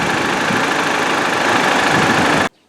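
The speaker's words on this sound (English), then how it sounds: "I swear that was a diesel, although it does get quieter as you move along." A Mercedes-Benz GLC 300 engine clatters with a diesel-like knocking rumble, steady and loud up close, then stops abruptly.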